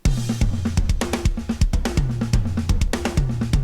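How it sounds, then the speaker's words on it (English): A busy drum groove with punchy kick hits, sharp snare cracks and steady cymbal ticks, driving along in a tight, syncopated rhythm. "This song starts with this awesome drum groove"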